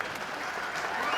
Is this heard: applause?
yes